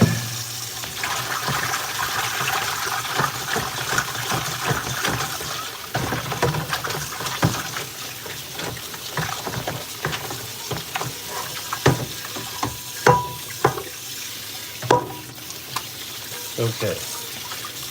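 Tap water runs steadily into an apartment sink while a pan is rinsed beneath it, a continuous splashing hiss broken by clanks and knocks of the pan, with a voice speaking briefly.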